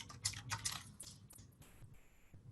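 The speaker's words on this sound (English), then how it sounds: "I start typing" Typing on a computer keyboard while editing a book in Boardmaker Studio software, a run of quick, close key taps in uneven bursts, with no talking.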